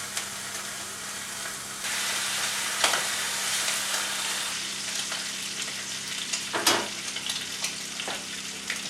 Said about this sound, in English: we need to cook bacon